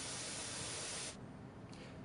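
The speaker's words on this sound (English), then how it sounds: "then you can activate the steam again" An SV6 steam cleaner releases a steady, loud hiss of steam for about a second, then cuts off, leaving faint background noise and one brief small puff afterward.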